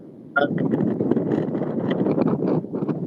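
Loud, buffeting wind rumbling across the microphone, gusting in after a quiet start and staying strong, with faint scattered knocks.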